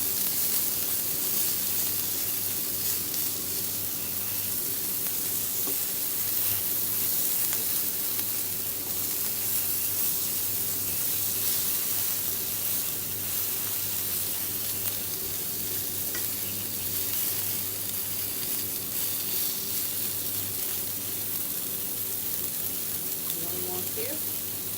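Liver frying with onions in a very hot pan for a Moroccan liver and onions dish, a loud continuous close sizzle with occasional stirring scrapes, steady throughout.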